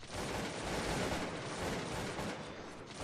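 Musket volley gunfire from the Cossacks 2 strategy game, a faint, continuous crackling roar of massed shots lasting the whole moment, with no distinct single reports standing out.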